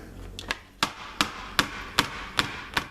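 Seven sharp taps, close and fairly loud, sound evenly as a small mold filled with still-hot hot process soap is knocked down against a hard surface to settle it.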